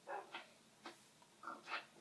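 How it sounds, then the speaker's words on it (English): Dogs in the Minecraft video game give a few short whimpers and yips, clustered in brief bursts with quiet gaps between them. "So I want to show you guys all my dogs."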